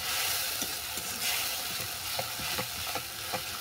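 Spice masala of turmeric, salt and chilli powder fries in oil for a fish curry, a constant close sizzle broken by repeated scraping stir strokes and light knocks at an irregular pace, with no talking.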